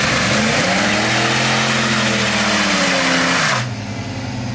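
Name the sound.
Drift Mustang V8 engine revving to about 3,500 rpm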